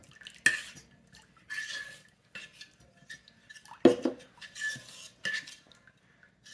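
Blended dates and almonds are scraped and spooned into a cooking pot, with a series of close metallic clanks and scrapes of a utensil against the pot, separated by short quiet gaps.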